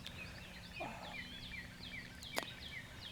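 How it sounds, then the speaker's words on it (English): A wild turkey gobbles repeatedly at some distance on a spring morning turkey hunt in Indiana, the rattling calls standing out over quiet woods with other birds chirping and a sharp click near the end. "Obviously there's a bird gobbling right down here."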